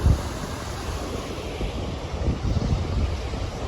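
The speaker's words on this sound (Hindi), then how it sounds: "चारों तरफ से झरने गिर रहे हैं, सब छोटी छोटी नदियां हैं" Waterfalls and small streams pour down the mountainsides on the Hampta Pass trek, making a steady, close, broadband rushing roar mixed with wind buffeting, with no voices.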